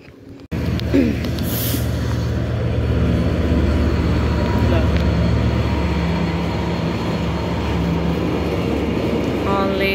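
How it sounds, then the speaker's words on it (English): A train rolls through a level crossing with the gates closed on a rainy day, a steady low rumble and rattle of carriages sustained close by after a brief quieter start. "you can see the train has to pass and the gates are locked"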